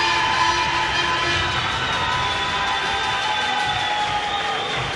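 Crowd cheering at the 2018 European diving championships in Glasgow after a 10m synchronised dive, a steady, loud roar of shouts and cheers filling the whole stretch.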